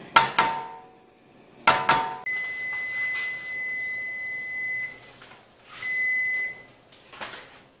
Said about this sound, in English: All right, our timer is up.